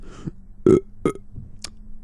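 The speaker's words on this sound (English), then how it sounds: "I actually burped there." A person burps close to the mic, giving several short, loud throaty belches in an uneven burst, with no words spoken.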